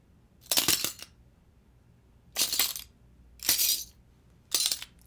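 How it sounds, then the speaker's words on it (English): Four short, bright bursts of small glass cracking impacts, used as sound effects in an anime sci-fi scene redesign, each crisp and separated by quiet gaps, with no voices. "I have some glass impact somewhere in here. Yeah, these little glass cracks."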